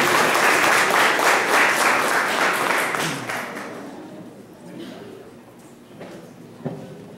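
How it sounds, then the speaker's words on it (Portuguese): A graduation ceremony audience claps for a certificate recipient, a dense burst of applause that fades out after about three seconds, leaving a quiet room with a few faint knocks and shuffles. "Aplausos para o Jovaci, gente."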